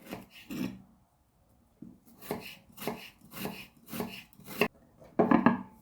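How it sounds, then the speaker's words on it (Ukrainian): A knife slices two onions into half rings on a board in a series of crisp, evenly spaced cuts, close and clear, after a short pause. "Дві цибулини. Я нарізаю півкільцями."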